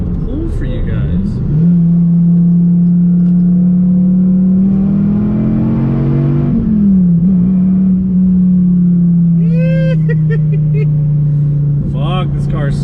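A 2013 Dodge Viper engine, a light spec, revs loudly and steadily through a pull, its droning note rising, dipping briefly and holding on, with squeaky interior sounds near the end.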